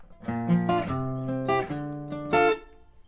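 An electric guitar plays a riff alone, in three or four clear strummed chord stabs with sustained ringing notes.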